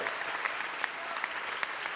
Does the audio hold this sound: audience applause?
yes